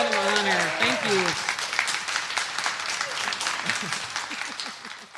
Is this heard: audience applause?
yes